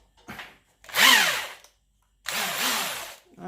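A Parkside PSBM 750 B3 hammer drill bores into wood in two loud, close bursts, each whining up as the motor spins up and then grinding steadily, with a short quiet gap between them.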